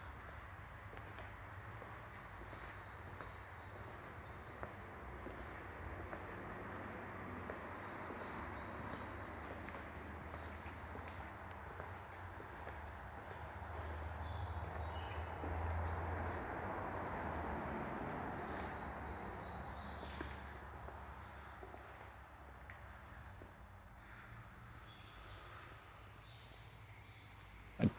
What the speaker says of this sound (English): I do apologise for the noise of the road traffic in the background